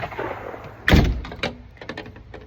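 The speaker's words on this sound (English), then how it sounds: "Back door's open, so this door's slammed." A front door on a house porch slams shut with one loud, solid thud, followed by faint rattles and light knocks fading off; no one speaks.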